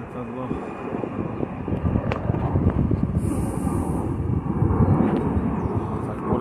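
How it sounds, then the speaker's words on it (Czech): A distant airplane drones faintly behind steady outdoor wind noise near a cracked bridge, a low sustained rumble with no talk over it. "Letadlo."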